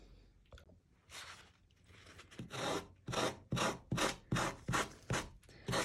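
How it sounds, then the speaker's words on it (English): Sanding block rubbed against sandpaper in a workshop, a run of about ten strong rhythmic scraping strokes that grow steadier and louder, close and alone with no voices. "Just taking my sanding block and sanding it out of the paper."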